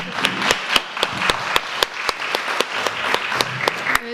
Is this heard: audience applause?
yes